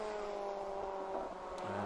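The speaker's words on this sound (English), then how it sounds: "That's the Team Olympian car now back out on circuit after serving its" A Fun Cup endurance race car rejoins the circuit at Brands Hatch Indy after a stop-go penalty, giving a steady, fairly faint engine drone with broad roar and no voices.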